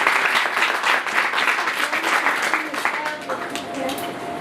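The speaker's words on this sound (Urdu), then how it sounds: "آئیں زوردار تالیاں بجائیں گے" A church congregation claps loudly at a pastor's sermon, a dense, sustained wash of applause from many hands filling the room, easing off slightly toward the end.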